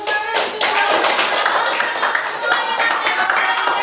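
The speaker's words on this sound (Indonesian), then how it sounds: "Tepuk tangan" A small group claps continuously at close range in a classroom at the end of a lesson, a steady patter of hands without any voices over it.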